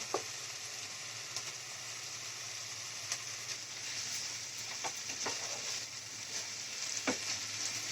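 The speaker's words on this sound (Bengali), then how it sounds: "এবার আমি মশলাটা ভালো করে কষে নিচ্ছি" Ginger and onion paste fries in a pan while being sautéed for a minced meat and potato dum curry, giving a steady quiet sizzle with occasional spoon scrapes and stirs close by.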